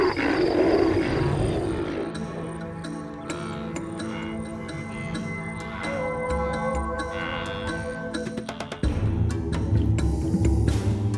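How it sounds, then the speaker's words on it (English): A lion roars deep and rumbling on a safari in Kenya, a rough call rising over a background of ticking, clicking sounds, with a louder low swell near the end. "I hear a lion and a buffalo."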